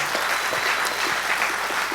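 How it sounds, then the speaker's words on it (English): An audience applauds award winners at a roast event, a dense, even wash of many hands clapping steadily at moderate loudness with no voices above it. "Give them a huge round of applause."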